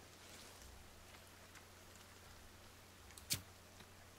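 Rain falls steadily in the video game The Forest as a faint, even hiss. One brief sharp click cuts through near the end.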